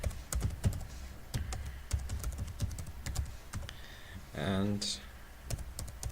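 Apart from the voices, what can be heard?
typing a password on a computer keyboard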